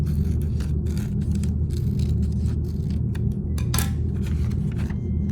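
Scissors snip through paper while trimming a square for an origami bowl, with a series of close, crisp cutting strokes over steady background noise.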